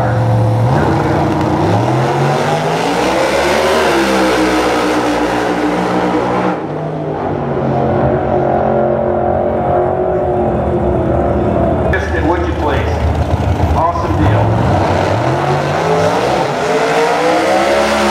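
Race car engines rev and roar past at close range, the pitch sweeping up and down in repeated surges, with a commentator's voice running underneath.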